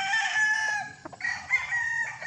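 A class A gamefowl rooster on a game farm crows in a drawn-out, nasal call that rises and holds, with a brief break midway before the crow resumes, loud and close.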